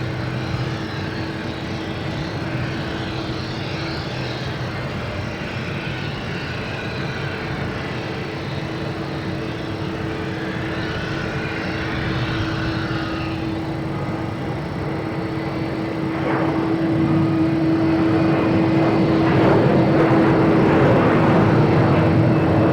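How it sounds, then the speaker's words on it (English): A Delta Embraer E175 jet takes off at Boston Logan International Airport: steady broad engine roar under a constant tone, swelling louder in the last seconds as the aircraft climbs away, with no talk. "The next taking off is Delta heading to LaGuardia at E175."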